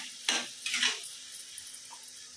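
Shredded cabbage drops into a pan of potatoes and peas, a brief hiss and clatter followed by a couple of short scrapes and a quiet fading sizzle, close by and without speech.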